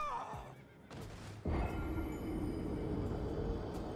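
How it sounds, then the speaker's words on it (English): A spirit horse in the video game Elden Ring gives a clear, high neigh, followed by a loud, steady wash of game sound. "This is a spirit horse."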